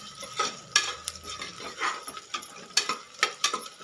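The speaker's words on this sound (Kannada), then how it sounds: "ಸ್ವಲ್ಪ ಎಣ್ಣೆಯಲ್ಲಿ ಫ್ರೈ ಆಗಿ ಮಿಕ್ಸ್ ಮಾಡ್ಕೊಳ್ಳೋಣ." Raw ginger-garlic paste fries in a little oil and is mixed. Short bursts of sizzle alternate with spoon scrapes and light clinks against the pan, close and fairly quiet.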